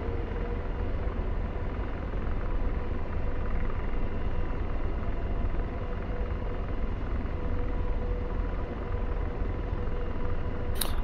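AH-64D Apache helicopter in DCS World, a steady, loud rotor and turbine rumble droning without pause from start to finish, close and constant with a brief click near the end.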